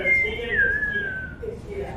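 A whistle gives a single sustained, slightly wavering shrill tone lasting over a second, close and moderately loud, over faint background noise, in a tabletop fantasy game setting.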